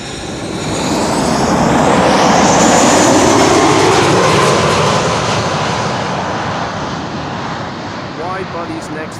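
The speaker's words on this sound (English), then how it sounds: "This is KLM flight 1028, arriving from Persenchester." A KLM passenger jet arrives at Amsterdam Schiphol Airport, its broad engine roar swelling, peaking midway and slowly fading as it passes, loud and fairly close.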